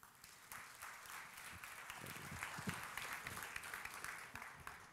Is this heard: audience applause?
yes